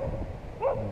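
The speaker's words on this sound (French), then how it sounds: "Les chiens ne sont pas très contents de me voir apparemment." Farm dogs at a large rural farmstead give a short, fairly distant bark or yip over steady outdoor background noise.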